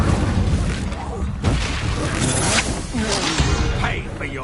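Fiery Incendio spell blasts in Hogwarts Legacy, booming whooshes and crashes layered over loud combat noise with a voice calling out spells.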